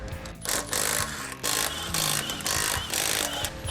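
Power tool bursts, likely an impact wrench with a 21 mm socket, loosening wheel nuts on a G37 car, with several loud whirring pulses of about half a second each, close by, and no talking.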